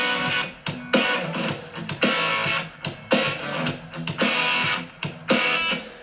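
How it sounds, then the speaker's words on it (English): Gritty distorted electric guitar, a Les Paul on humbucker pickups, chugs a rhythm part, thick crunchy chords with short muted gaps between strums, loud and upfront with no voices. "So I've got that really nice gritty tone coming again from the humbuckers in the Les Paul"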